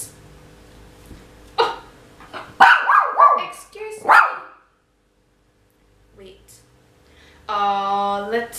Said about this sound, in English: Pixie, I'm going to put it away if you carry on barking like that.